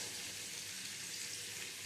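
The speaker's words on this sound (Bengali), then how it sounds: "লবণ আর হলুদ দিয়ে কুমড়োটাকে ভেজে নেব।" Pumpkin pieces fry in a pan with salt and turmeric, giving off a steady, even hiss of sizzling oil, soft and continuous with no breaks.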